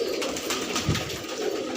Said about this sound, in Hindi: अच्छे अच्छे कबूतर है बाबू भाई के, फैंसी।